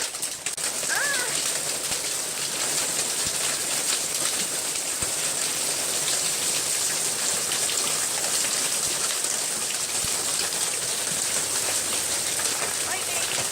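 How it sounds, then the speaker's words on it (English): Very large hailstones pour down during a thunderstorm, a dense, continuous hiss of pelting ice and rain drumming on surfaces, loud and steady throughout with no break. "Oh my gosh, it's hailing now. It's like really, actually really big hail."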